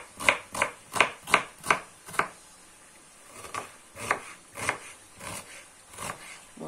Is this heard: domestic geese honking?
no